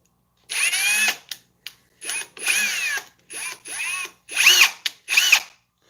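A power drill whirs in repeated short bursts, about seven spurts separated by brief pauses, close and loud with a high whining motor pitch.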